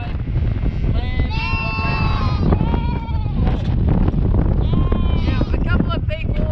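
Lambs bleat repeatedly in a tailing pen on a West Australian sheep farm, with many overlapping cries near and far over wind noise and a busy background, and some talk underneath.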